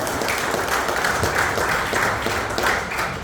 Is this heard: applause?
yes